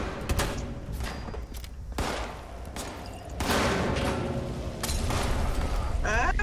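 Gunfire in Fallout 76 rings out from unseen attackers, sharp bursts of shots at irregular intervals with heavier volleys near the end, among game background noise.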